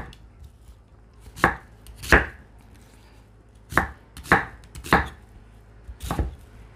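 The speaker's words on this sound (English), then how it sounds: "this piece will get chopped into 3 pieces right here, and then again, just coarsely chop them" A knife coarsely chops quail into pieces on a cutting board for Jamaican curry quail, with seven sharp, heavy thuds at uneven intervals, close and distinct over a faint background.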